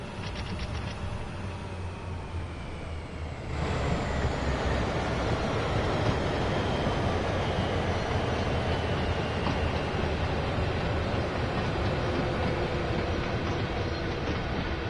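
SD40-2 diesel hauling a freight train on Sherman Hill in Train Sim World 2, a steady rolling rumble with faint clickety-clack of wheels that grows louder partway through and holds, no voices.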